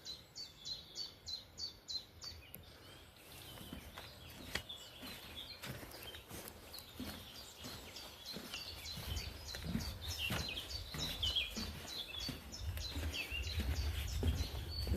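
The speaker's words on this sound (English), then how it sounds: "with all this like bird noise in the background, and nature sounds" Birds sing and chirp throughout a quiet, dry valley with a raised walkway. A rhythmic repeated call opens the stretch, then many overlapping songs follow against a soft outdoor background that grows slightly louder.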